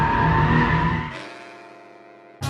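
Car drifting in oversteer, its tires skidding and squealing loudly over a revving engine, the sound fading as the car slides away before a sudden burst of noise returns at the end.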